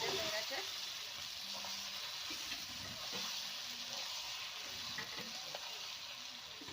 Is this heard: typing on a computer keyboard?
no